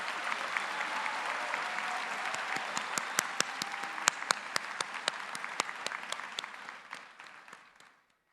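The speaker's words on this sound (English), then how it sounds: "Please join me in a round of applause for the 2023 LLM graduates." A commencement audience applauding the 2023 LLM graduates, a steady wash of clapping with a few sharp individual claps standing out, fading away over the last seconds.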